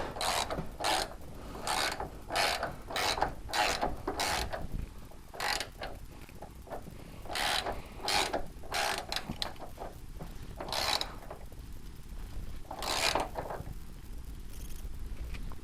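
A ratchet wrench tightens a 5/8 bolt on a transmission crossmember, a close series of rasping clicking strokes in quick bursts with short pauses between them.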